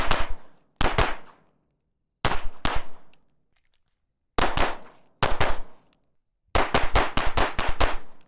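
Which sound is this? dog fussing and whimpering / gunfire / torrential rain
gunfire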